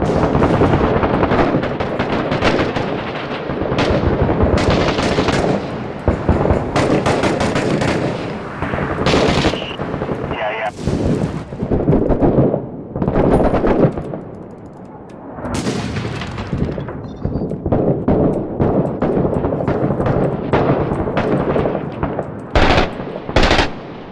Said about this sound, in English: Mortar's coming down again.